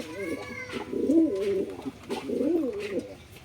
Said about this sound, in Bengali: এই এক পেয়ার পায়রা দেখুন